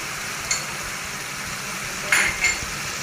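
Spices are stirred into dried loitta fish bhuna frying in a pan, a soft steady sizzle broken by a few metal spoon scrapes and clinks against the pot, no voices.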